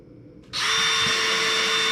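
A power drill with a tiny bit drills through plastic, starting abruptly after brief near-silence and whining at a steady high pitch, loud and close, running continuously to the end.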